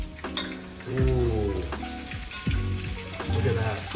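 Onions sizzling in a hot pan, a steady close frying hiss with clatter and scraping as they go in, while a person briefly speaks.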